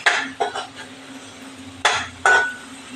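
Ground masala with tomato sautés in a pan, heard as a few separate scrapes and clinks of a spatula against metal, close and fairly loud, with quiet pauses in between and no talking.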